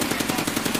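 Rapid automatic gunfire in the video game Escape From Tarkov, a fast burst of about ten evenly spaced shots, loud and close with no talk.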